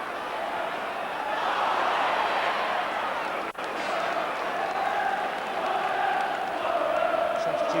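A football stadium crowd roars and chants continuously during a 1995 Middlesbrough versus Luton Town match, a dense, loud wash of voices that holds steady throughout, with a commentator speaking over it.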